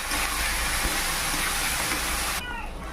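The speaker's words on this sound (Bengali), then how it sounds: "এবার এটাকে ভালো করে ভেজে নেব।" Loud, constant sizzling hiss of raw onion, ground spice paste, salt and turmeric frying in a hot pan for fish curry, cutting off abruptly near the end.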